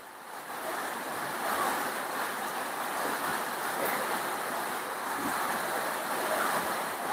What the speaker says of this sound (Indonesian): hujannya sejak jam 7 lewat pagi hari